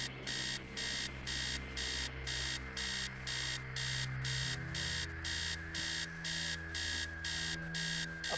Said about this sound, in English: Upstairs, the sound of an alarm clock blaring.